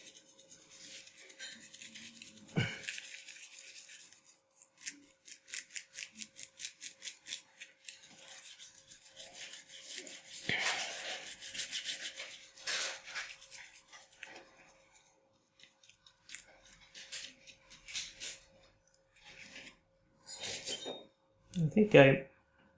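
Heavy dry brushing of paint onto a model fantasy Viking palisade: scratchy bristle strokes in quick repeated bursts, close and fairly quiet, with short pauses between passes.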